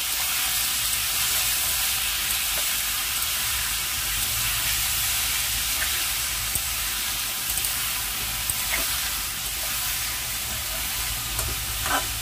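Vegetable khichdi frying in a pan with salt and turmeric, stirred steadily, giving a continuous close sizzle and hiss throughout, with faint scraping from the stirring and no talking.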